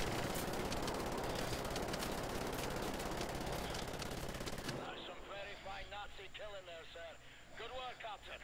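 Rapid gunfire aimed at the player in the video game Wolfenstein: The New Order, a dense loud burst of shots for several seconds that cuts off abruptly, followed by someone talking.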